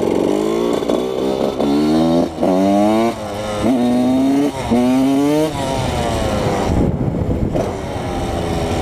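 A 125 motorcycle revving repeatedly, each loud rising whine climbing in pitch and then dropping as gears shift, close and continuous with no speech.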